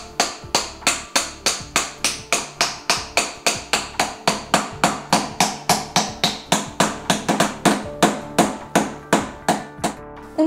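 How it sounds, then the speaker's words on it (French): A hammer taps a stamp into a slice of mint and patchouli soap: about thirty sharp, close, evenly spaced knocks in a steady rhythm, with no voices. "vous prenez une tranche de savon, un tampon que vous déposez sur le savon et un marteau"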